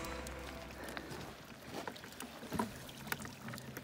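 Small boat moving along the water near shore, a steady low rumble and wash with faint splashes and a couple of brief knocks, fairly quiet throughout.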